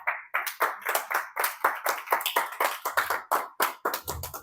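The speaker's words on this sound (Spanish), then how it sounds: "Denle un aplauso a Dios." A church congregation at a Sunday service claps in steady, brisk applause for several seconds, crisp and close with many hands together and no speech on top.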